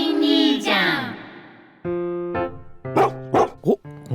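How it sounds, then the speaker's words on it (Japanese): A stray dog barking and yipping outdoors, a whining yelp followed by several short, close, high-pitched barks in quick succession, with a sustained tone running underneath. "お、こんなところにワンちゃんが。"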